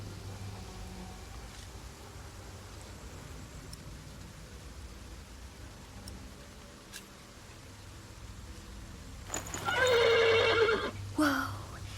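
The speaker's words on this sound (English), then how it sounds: "The horse nearly woke the guard." A horse gives a loud, close whinny near the end, followed by a shorter second burst, after a long stretch of quiet, low background noise.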